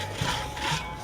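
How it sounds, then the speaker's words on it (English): Hand sawing through wooden logs at an 18th-century outdoor event, a brief rasping stroke or two with a gritty back-and-forth scrape. "like sawing logs of wood"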